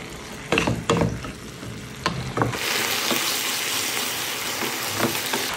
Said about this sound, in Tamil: இப்போ இந்த மசாலா எல்லாத்தையும் இந்த தண்ணியில் சேர்த்து நல்லா கலக்கி விட்டுக்கலாம்.